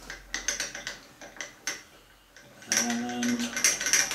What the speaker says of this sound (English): We lock the table in position.